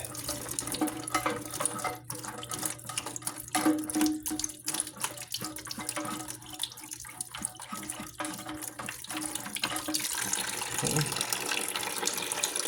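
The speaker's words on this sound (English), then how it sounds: "Let the rest of that water drain down into this bucket." Steady rushing and trickling of water draining from a toilet tank into a bucket, continuous throughout with faint clinks and handling noises.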